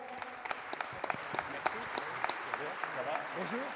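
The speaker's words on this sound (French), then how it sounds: "avec vos applaudissements" An audience at the opening plenary session of a 2017 conference claps to welcome a speaker on stage, with steady close applause and a voice talking over it throughout.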